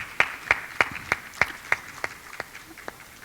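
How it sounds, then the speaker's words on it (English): A small audience claps for a speaker at a health conference, about ten sharp, evenly spaced claps that fade out, sparse rather than a full crowd roar. "A big round of applause for Dr. Kathula."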